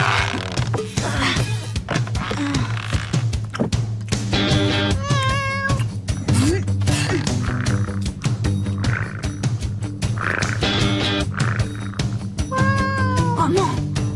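A cat meows in several drawn-out, wavering cries that rise and fall, set against a busy, steady background of other sound with no talking.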